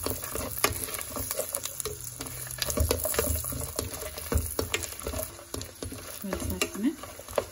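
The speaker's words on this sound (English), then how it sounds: "Adding some garlic as well." Garlic going into a pan of paneer butter masala, heard as faint, close sizzling and frying with scattered clicks and stirring taps of a utensil against the pan.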